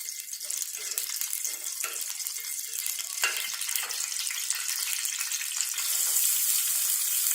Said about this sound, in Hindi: जो जीरा भुनया जाए तो इस दे विच बारीक कटे हुए प्याज पाने हैं।